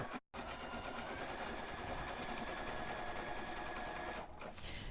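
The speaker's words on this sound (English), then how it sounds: "I'm continuing to let the machine stitch out the design" A computerized embroidery sewing machine stitches out a design on a Valentine's Day towel, a fast, steady mechanical whir that runs loud and constant with only a brief dropout near the start.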